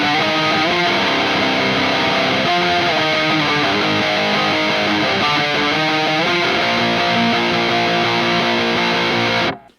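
Distorted electric guitar played through a KSR Orthos 2 amplifier, loud and continuous, with chugging rhythm chords and sustained ringing notes that cut off abruptly at the end.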